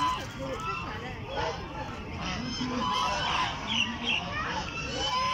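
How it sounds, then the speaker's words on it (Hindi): A flock of ducks at Karachi Zoo quacks and honks noisily close by, overlapping calls running throughout alongside faint human voices. "बहुत सारी बतखें जमा हो गई हैं।"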